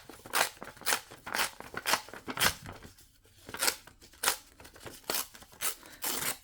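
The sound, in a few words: tearing paper pages for a junk journal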